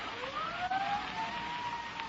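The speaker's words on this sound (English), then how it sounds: "Sirens. Can't you hear them?" Police sirens approach in a radio drama sound effect, a wailing tone that rises and falls steadily over a continuous traffic rumble, moderately loud and unbroken, with no voices.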